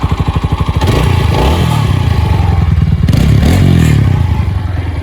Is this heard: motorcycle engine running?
yes